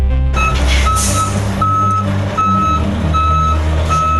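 An Eddie Stobart truck reverses, its reversing alarm beeping in a steady, regular pattern over a loud, rumbling diesel engine idle, close by and with no talk.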